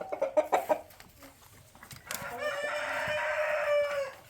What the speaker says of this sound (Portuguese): São galinhas muito pesadas.